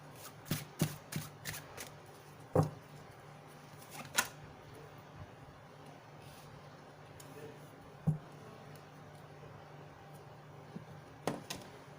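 A tarot card deck is shuffled in a quiet room, with a few quick riffling bursts and soft sharp card snaps spaced irregularly, fairly close and faint, with no talk.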